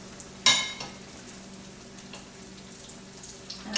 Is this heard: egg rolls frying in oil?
yes